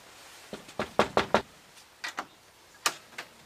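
Knuckles rap on a front door in a police comedy sketch, a quick volley of close, sharp knocks followed by two pairs of further raps with short pauses between them.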